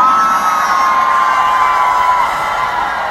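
A crowd at an outdoor festival concert's eve celebration in Busan cheers and shouts loudly, with high whoops and yells forming a sustained roar that holds for the full few seconds.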